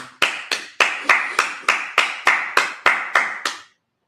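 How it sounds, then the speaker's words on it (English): A congregation at a Sabbath service claps in unison, about a dozen loud, evenly spaced claps in a steady rhythm close by, then stops into silence. "Clap it up."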